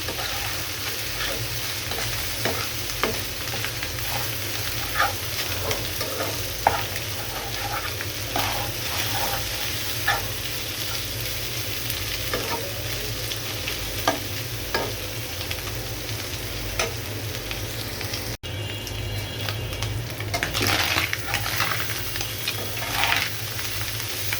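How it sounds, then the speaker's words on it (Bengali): Dried kachki fish powder fries with onion in a pan, giving a continuous close sizzle with regular scraping stirs and small clicks of the spatula throughout. "কাঁচকি গুঁড়াটা এইভাবে সমান সমান পেঁয়াজ দিয়ে ভাজা ভাজা করে নিলে খেতে অনেক ভালো লাগে।"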